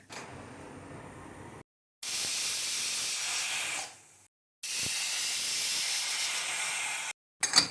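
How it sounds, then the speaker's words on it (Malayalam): Loud, steady hissing of steam escaping a pressure cooker on high flame, coming in long bursts separated by brief silences, with a quieter hiss at the start. "കുക്കർ അടച്ച് തീ ഓണാക്കി ഹൈ ഫ്ലെയിമിൽ 2 വിസിൽ വരുന്നതുവരെ വെക്കാം"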